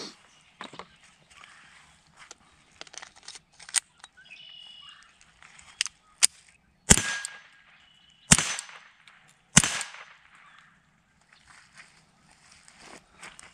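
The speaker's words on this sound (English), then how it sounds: "I'll shoot a few shots here and miss the plates just so you can kind of get an idea how quiet it is" Suppressed Ruger Mark IV 22/45 Lite pistol fired outdoors at steel plates, giving three sharp, fairly quiet cracks a second or so apart with a few smaller clicks and handling sounds around them against faint background.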